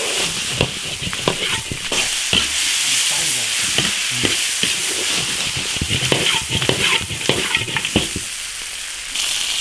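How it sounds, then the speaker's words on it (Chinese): Beef stir-fries in an iron wok with beef sauce and red chili oil: a continuous sizzle broken by frequent sharp clatters and scrapes of a spatula tossing the meat. "炒出红油，下牛肉煸炒。"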